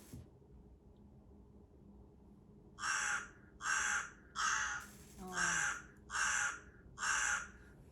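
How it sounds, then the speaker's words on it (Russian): A crow caws six times in an even rhythm, clear and fairly close against a quiet background hum. "Ворона."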